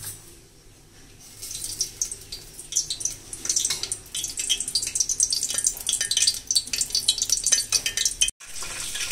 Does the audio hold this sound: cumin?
yes